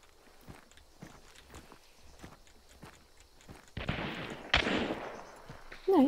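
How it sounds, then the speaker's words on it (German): A gunshot impact lands in Hunt: Showdown, a sharp burst cutting through quiet footsteps, followed by another loud hit moments later, with no voices. "da ist ein Schuss eingeschlagen"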